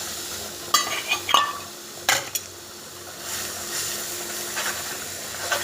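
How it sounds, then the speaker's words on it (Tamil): Chopped goat brain with salt, chilli and garam masala is stirred and fried in a pan, giving a low steady sizzle broken by a few sharp scrapes and clinks of a spatula against the metal. "ஆட்டினுடைய மூளையை சேர்த்துக்கலாம்."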